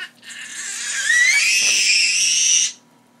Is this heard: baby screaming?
yes